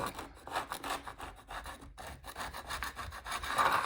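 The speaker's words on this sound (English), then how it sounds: "hold the spoon and then just push it, and it'll just scrape this stuff right off" Metal spoon scraping built-up residue off a window pane in a 1940s country home, a steady run of close, rough rasping strokes with brief pauses, growing louder toward the end.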